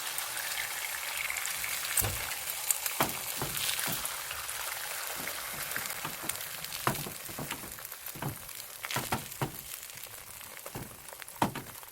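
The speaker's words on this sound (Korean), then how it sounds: "그 다음에 계란을 구워줍니다" Eggs fry in generous cooking oil in a pan over medium heat for a rolled omelette, a constant bright sizzle broken by sharp crackles and pops.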